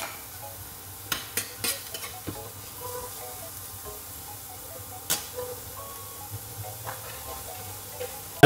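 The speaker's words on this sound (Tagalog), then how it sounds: "Lagay na rin natin yung onion" Onion sizzling and frying in a pan with butter, stirred in short scraping bursts, several sharp utensil clicks over a steady soft hiss, close and fairly quiet.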